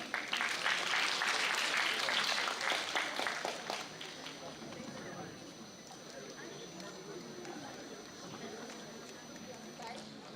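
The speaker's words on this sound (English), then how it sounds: "May we please have a round of applause" An audience at a formal academic gathering claps loudly for about four seconds, then the applause thins and fades into a softer murmur of room noise.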